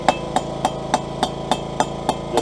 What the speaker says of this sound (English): just keep rolling it, going hammering away nice, light taps